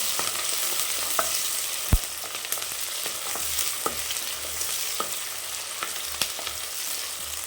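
Onions sauté in a pan for mushroom biryani, a steady moderate sizzle broken by occasional clicks and scrapes of stirring.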